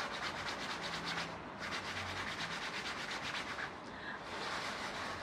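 Fabric of a clothing top, an asymmetric piece, rustles and rubs close up in a continuous scratchy swishing texture with a brief lull partway through, no voices.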